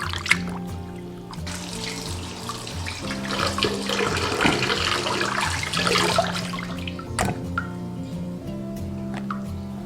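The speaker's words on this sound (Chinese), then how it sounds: "首先把鲫鱼清洗干净，肚子上这些黑膜一定要给它刮掉。" Tap water runs steadily into a sink while crucian carp are rinsed, close and continuous, with faint splashes and a low tonal hum underneath; no one speaks.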